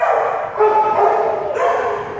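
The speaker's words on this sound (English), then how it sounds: "Toonie, a little bulldog mix." A little bulldog mix barks in a shelter kennel, a couple of loud, close yapping barks filling the short moment with no talk over them.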